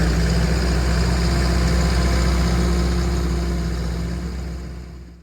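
A smoking bulldozer with a stopped-up inner filter idles nearby in a loud, steady, low rumble that gradually fades away at the end, with no talking.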